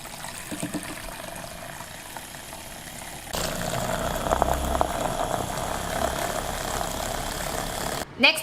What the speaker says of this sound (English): dip your brush in with the handle again and let it spin for another 30 seconds